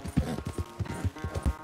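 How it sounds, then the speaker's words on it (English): Horse hooves clip-clop in Red Dead Redemption 2 gameplay, a quick, close, steady walking rhythm of distinct hoof strikes. "Ain't you a good horse?"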